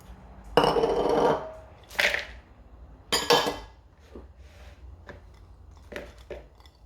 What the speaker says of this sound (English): I'll just dump everything into a bowl and we'll mix all that